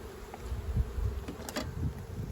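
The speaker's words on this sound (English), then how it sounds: "Smoke the bees down a little bit so we can get in here." Honey bees buzz steadily in a dense, low hum in an opened, smoked hive in Pennsylvania before spring, with faint rustling and shuffling nearby; no voices.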